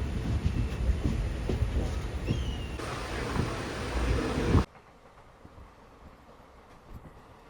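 A moving passenger train carriage rumbles steadily from inside, with a loud broadband roar and faint wheel clatter, then cuts abruptly to a much quieter, low hum for the final seconds.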